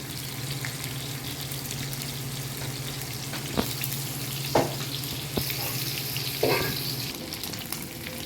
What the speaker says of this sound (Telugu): అందుకోసం నేను ఇలా ఫ్రై చేస్తున్నాను